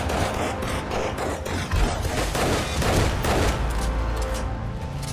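Base defence guns fire dense, continuous rapid bursts against a horde in the survival game 7 Days to Die, loud overlapping gunfire with booming impacts that hardly lets up.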